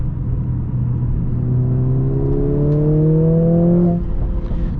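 A 2021 Mercedes GLA 45 S AMG accelerating hard on the German Autobahn, engine pitch rising steadily through the gear, then a shift, heard from inside the cabin.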